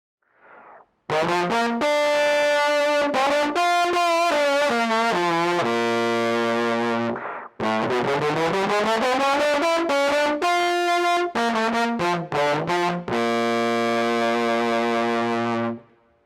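A trombone through a TC Electronic Rusty Fuzz pedal gives a brassy, sustained tone heavily distorted with buzzy fuzz, playing a sequence of held notes and slides, loud and close, with no talking.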